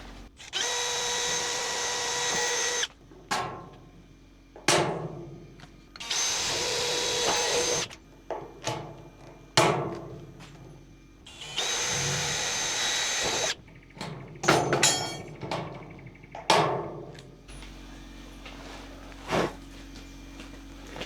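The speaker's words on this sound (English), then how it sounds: "I'm going to whack a few rivets in it." Rivets going into a metal gutter during a gutter install on a century-old Queenslander renovation: loud, close power-tool whirs in repeated bursts of a few seconds, separated by sharp snaps, knocks and brief pauses.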